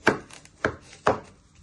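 A knife chops an onion on a cutting board in the kitchen, three crisp, close thuds spaced about half a second apart, with no voices.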